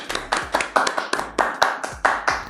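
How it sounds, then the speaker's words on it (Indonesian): A small audience claps hands in a sparse, uneven rhythm, about a dozen sharp claps over under three seconds, close and fairly loud. "Kurang meriah tepuk tangannya."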